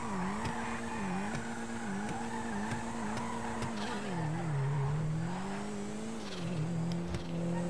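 Karin Futo drift car in GTA V drifting with a continuous engine drone whose pitch rises and dips, overlaid by sustained tire squeal, loud and unbroken throughout, no talk.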